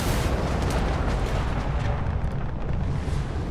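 Missiles launching and exploding in a Starfield space fight, a loud, dense roar of blasts and rumbling booms that runs on without pause.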